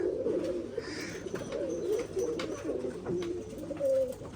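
Old Giribaj pigeons cooing at a pigeon farm, low repeated throaty coos overlapping continuously from several birds close by, with faint higher chirps in the background.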